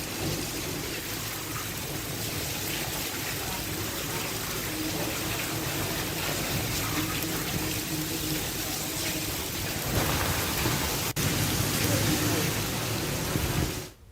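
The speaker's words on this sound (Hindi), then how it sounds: "तेज आंधी के साथ झमाझम बारिश शुरू हो गई।" Heavy rain pouring during a strong windstorm in Lakhisarai, Bihar, a dense continuous wash of water noise that swells louder toward the end, heard on its own.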